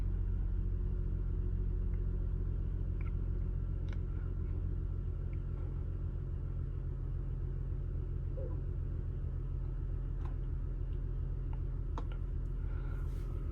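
A 2002 Lexus ES300 engine idles in drive during a transmission fluid change, a low, steady rumble with faint clicks and taps over it, heard close and without talk.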